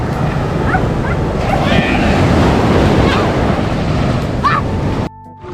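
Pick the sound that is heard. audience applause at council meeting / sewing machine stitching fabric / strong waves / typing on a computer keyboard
strong waves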